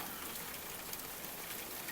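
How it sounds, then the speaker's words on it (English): Steady rain falls in a continuous, even hiss with soft patter throughout, moderately quiet and with no voices. "the rhythm of the rain drip slowly into your thoughts"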